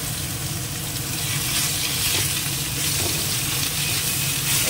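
Steady, close hiss and sizzle of spiny gourd (kakrol) with cumin and whole-spice tempering dropped into hot oil, an even crackling fry throughout with no talking.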